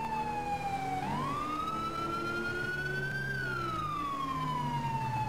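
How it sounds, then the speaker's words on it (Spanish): A loud New York police siren in a police video game wails continuously, its pitch sliding slowly up and down in long sweeps over a low engine rumble. "he cambiado lo que es el sonido de la sirena. Le he puesto la real, la de allí, de Nueva York"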